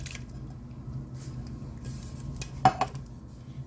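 Spoon scraping and clinking against a pot while diced tomatoes are stirred into potato curry, soft squishy stirring under a low background hum with two sharper clinks near the end.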